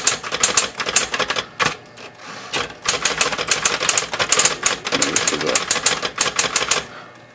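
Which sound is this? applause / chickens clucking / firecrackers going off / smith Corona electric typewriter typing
smith Corona electric typewriter typing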